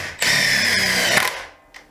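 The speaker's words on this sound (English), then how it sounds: "So what happens if we try drilling through one without a hole pre-done?" A Makita DTD171 impact driver sinks a screw with no pilot hole, whirring loudly and steadily for about a second before cutting off, close up with no talk.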